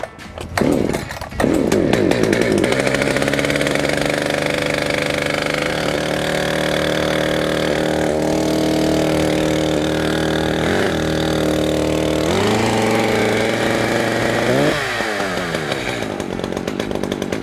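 An Echo CS-590 chainsaw engine runs steadily at a fast, high idle just after starting, loud and close, with a slight dip in pitch near the end.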